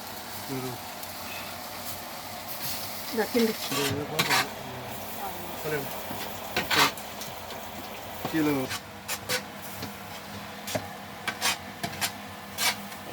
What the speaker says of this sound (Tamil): அதில் முட்டை ஒரு 4-5 முட்டை போட போகிறோங்க